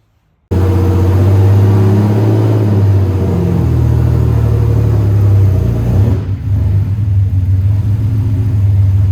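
A 1984-88 Porsche 3.2 Carrera engine idles with a steady low rumble, then pulls the car up onto a ramp, holding a loud, continuous drone close by, with a brief dip near the end.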